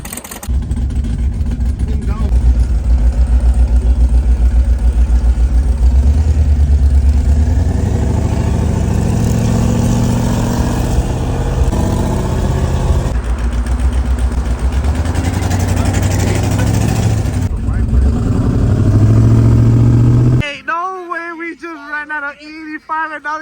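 Twin-turbo limousine engine droning steadily as it heads onto the freeway, a loud low rumble with swelling revs under ongoing talk, then cutting to quieter sound near the end.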